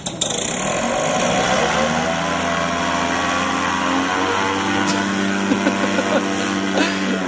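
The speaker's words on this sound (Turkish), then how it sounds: "Neyse sonuçta kendisine küçük bir helikopter yapmış amcamız. Dizel bir motorla." A small homemade helicopter powered by a diesel engine runs steadily throughout, a loud continuous engine drone with rotor chop and a few sharp clicks, no voices over it.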